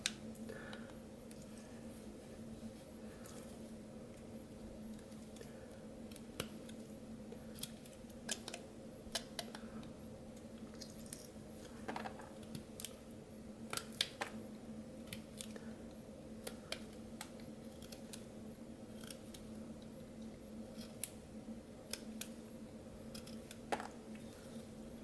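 Pocket knife carving a small tiki from a piece of found wood, with faint scattered clicks and scraping ticks of the blade rolling and cutting, steady and close over a quiet background hum.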